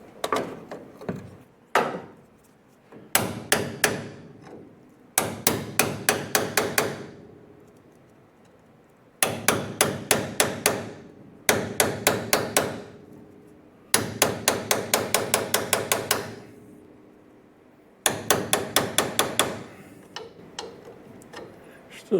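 Repeated hammer taps on a 1957 Chevrolet Bel Air power steering gearbox, sharp metallic strikes in quick bursts of several blows separated by short pauses, close and loud with no talking.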